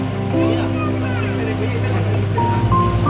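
Low steady engine drone of a motorboat on a lake in Udaipur, with water noise, continuous and fairly loud, with some tonal whine over it.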